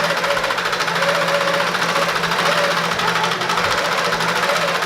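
A computerized Quilter Pro quilting machine stitching a quilt, a fast, even mechanical rattle and hum that runs steadily and loudly throughout, with no talking.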